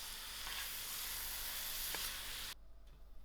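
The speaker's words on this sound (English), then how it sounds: "I will allow this to fry for about 15 to 20 minutes." Mutton sizzling in a pot while frying for a Durban-style curry, a loud dense hiss with a couple of faint stirring knocks, cutting abruptly to a much quieter sizzle near the end.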